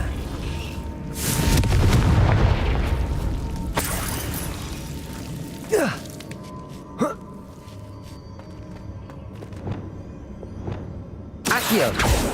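Confringo spell blasts in Hogwarts Legacy: a loud fiery burst near the start, then several sharp cracking impacts and whooshes scattered through a quieter magical ambience, with a final loud blast at the end.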